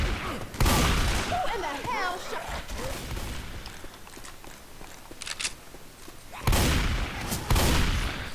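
Shotgun blasts in the zombie shooter Left 4 Dead 2, a few loud booming shots spaced apart amid busy game noise and footsteps, with a voice talking over parts of it.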